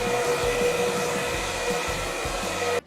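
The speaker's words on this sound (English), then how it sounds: "So today we're going to be using a blow dryer." A blow dryer runs steadily and loudly without pause, a continuous whirring hum with a tonal whine, being used to make an apparent crack disappear, then it cuts off abruptly at the end.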